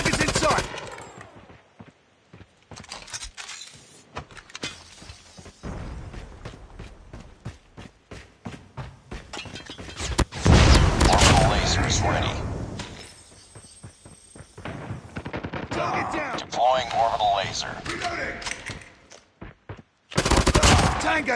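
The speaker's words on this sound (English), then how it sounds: "Sentry gun deployed." Automatic sentry gun fire in the mobile shooter Call of Duty Mobile, bursts of rapid gunfire with loud fusillade passages and gaps, mixed with game voice callouts and footsteps.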